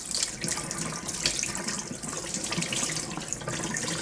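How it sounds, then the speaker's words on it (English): Tap water runs steadily into a sink while salt is rinsed off wild salmon, with a continuous close splashing hiss and slight variations as the fish is moved under the stream. "Now I need to give the salmon a good rinse."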